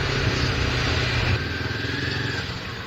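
Motorcycle engines in busy street traffic, a close, loud buzzing drone with throbbing low pulses that eases off and fades somewhat over the final second and a half.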